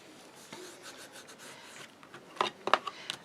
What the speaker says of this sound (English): then you give it a good burnishing